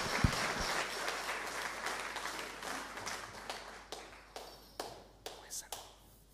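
Church congregation applauding during a Salvation Army Sunday worship service, a moderate round of clapping that thins out into scattered, distinct claps toward the end.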